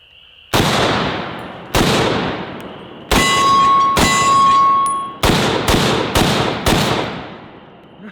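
An M1 Garand rifle fires a string of sharp, loud gunshots, eight in all, outdoors at targets, with a bright metallic ring from the en-bloc clip ejecting partway through, then the remaining shots.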